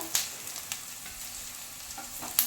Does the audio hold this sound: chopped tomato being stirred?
yes